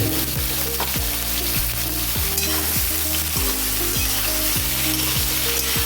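Eggplant pieces fry in plenty of hot oil, giving a loud, steady sizzle and crackle, with a spatula scraping and clanking against the pan in a regular rhythm about once a second.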